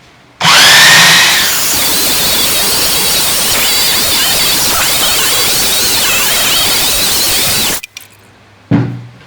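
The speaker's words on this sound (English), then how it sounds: "Use the belt sander with 40 grit, sanding with the grain." A loud, steady belt sander with 40-grit paper grinds along the grain of an end-grain wooden butcher's block for several seconds without a break, then cuts off, followed by a brief clunk.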